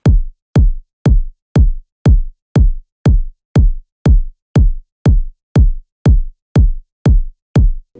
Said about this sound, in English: We're gonna put a kick in every beat.